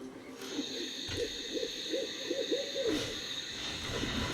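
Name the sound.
bird hooting sound effect in MTG Arena video game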